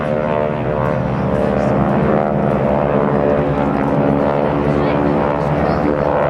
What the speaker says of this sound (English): from an echelon formation and coming in on the target, our GEICO Skytypers, or Caveman Flight, Larry Arkin, Ken Johansson, Rob Steele, and